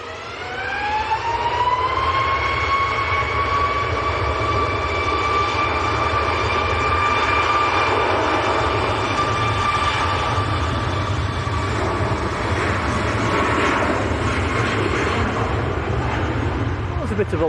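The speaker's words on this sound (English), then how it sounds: "A bit of a wobbly landing." An Aer Lingus plane from Dublin landing at Manchester Airport in crosswinds: a loud, steady jet roar with a whining engine tone that rises and then holds across the whole stretch, as a man chats over it.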